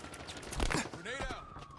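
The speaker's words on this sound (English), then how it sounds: "Grenade was a hit." A grenade goes off amid Halo Infinite multiplayer gunfire, a sharp burst rising out of rapid shots and clatter, followed by a brief whooshing tonal sweep, all close and loud.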